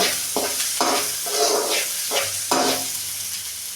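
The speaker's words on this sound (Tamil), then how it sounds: "எல்லாமே ஒன்றாவே வதக்கெடுத்துக்கலாம்" Mint and coriander for a chutney being stirred together in a hot pan, with a steady sizzle broken by several scraping strokes of a spoon, close and alone without any voice.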